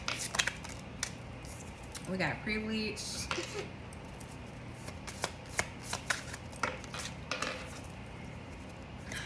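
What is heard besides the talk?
shuffling a tarot card deck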